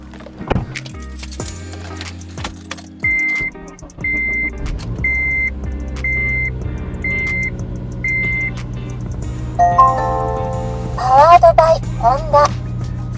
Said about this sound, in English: Here it is, cold start.